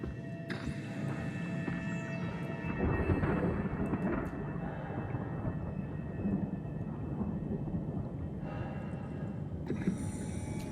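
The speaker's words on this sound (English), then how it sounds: "Why the hell do I hear thunder?" Deep thunder rolls through the sci-fi horror game SOMA, a continuous low roar that swells around the third second and rumbles on steadily to the end, with no voices over it.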